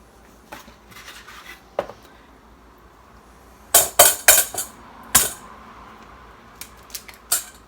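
Eggs cracked for breakfast burritos, several sharp clicks and taps of shell against a hard edge, with a cluster of louder cracks in the middle and a few lighter taps after, close and clear with no talking.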